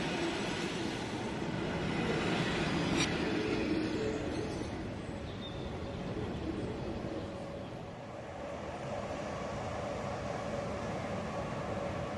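A model railway high-speed train runs through Myggebo engine station at a train meeting, giving a steady, even rumbling roll that stays constant and fairly close throughout.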